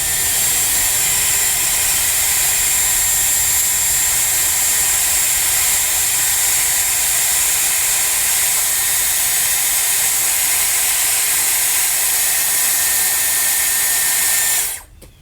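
A Dyson Airwrap blows hot air through hair, a loud steady whooshing motor hiss held close and constant for about fifteen seconds before it abruptly cuts off.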